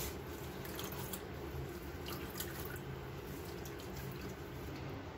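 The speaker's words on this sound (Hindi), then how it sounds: "ऐसे ये टिप टिप पानी गिरता रहेगा" Whey drips from cottage cheese hanging in a cloth, a faint, irregular patter of drops falling into liquid over a soft, constant background hiss.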